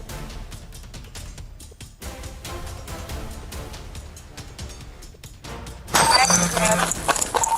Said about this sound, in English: suspects were smashing jewelry displays with a sledgehammer